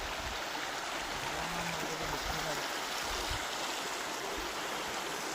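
Clean, clear stream water flows steadily outdoors, a dense, even rush that holds unbroken for the whole stretch, with a brief low hum rising under it midway.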